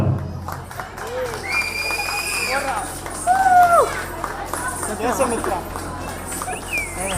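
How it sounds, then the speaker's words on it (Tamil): An audience at a Bharatanatyam dance event claps for a dance award winner, the applause moderate and mixed with crowd chatter and a speaker's voice, while music plays in the background. "ஒரு நல்ல கைத்தட்டல் கொடுங்க"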